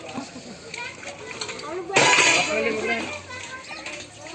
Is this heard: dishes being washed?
yes